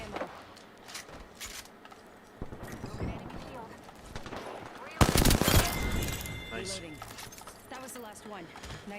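Gunfire during a video game shootout, scattered shots followed by a louder burst of rapid fire partway through, while a player talks over much of it.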